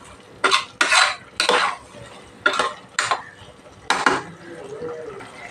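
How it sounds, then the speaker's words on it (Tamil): A ladle stirs vegetable biryani with curd in a pot, giving six or so distinct scraping clatters against the metal, each followed by a brief pause, with a faint simmering hiss between them. "இதை ஒரு 5 நிமிஷம் நம்ம சிம்மில் வச்சு வதக்கி எடுத்துக்கலாம்"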